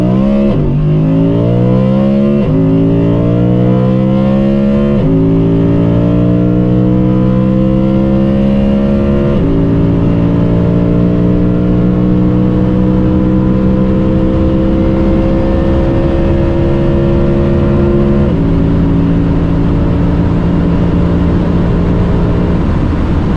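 A car accelerates hard from a standstill in a 0-100 and 100-200 km/h acceleration test, the loud engine note climbing steadily through each gear and dropping briefly at four upshifts, with no talking.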